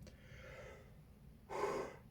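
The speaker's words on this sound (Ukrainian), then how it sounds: "завжди позіхаю на цьому кріслі" A person sitting in a chair lets out a single breathy yawn near the end, preceded by quiet breathing in a hushed room.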